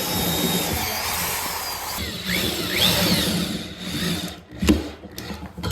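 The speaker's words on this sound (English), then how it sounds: "I'm gonna grab my titanium drill bits and we're gonna drive some screws through it into the stud below" Power drill with titanium bits driving screws through the metal coping of a wooden micro quarter-pipe skateboard ramp into a stud below, whirring loudly and changing pitch as each screw bites, then stopping abruptly, with a sharp clunk near the end.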